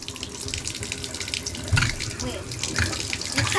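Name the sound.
shower running in a bathtub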